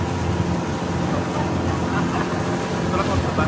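A motorboat engine roars steadily and close on the way to Hidden Island, a dense continuous drone with water and wind rush, unbroken for the whole stretch.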